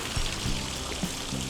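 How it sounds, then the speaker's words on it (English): Water dripping and pouring through closed canal lock gates, a steady rushing wash with a few distinct splashes, loud and close, no talk. "you can see the water dripping through the locked doors as well"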